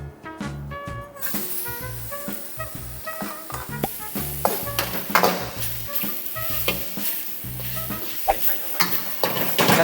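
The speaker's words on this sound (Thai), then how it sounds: "ขั้นตอนแรกนะครับผมเราก็จะมาผัดเห็ดของเรากัน น้ำมันนะครับลงไป จากนั้นเนี่ย เราก็จะเปิดไฟ เราก็ใส่เห็ดลงไปนะครับผม" Mushrooms sauté in hot oil in a pan, a steady loud sizzle with crackling and stirring scrapes throughout, while background music plays underneath.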